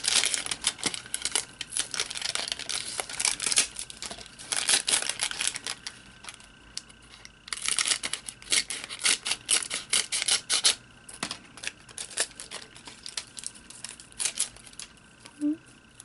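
Foam tape is cut and handled for a birthday shaker card, bringing close bursts of paper crinkling, snipping and rustling in irregular clusters with brief quiet gaps between them.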